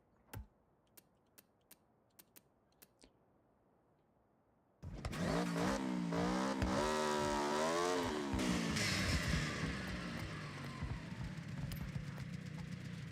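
Car in the Forza Horizon video game fitted with a swapped motorbike engine: a few sharp keyboard clicks, then the engine bursts in loud and high-revving, its pitch climbing and wavering through gear changes and sustained to the end.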